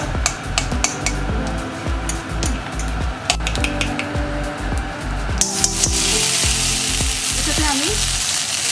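Ground onion paste frying in a pan over a high flame, a loud close sizzle with repeated scraping stirs and metal clinks, swelling into a stronger hiss partway through.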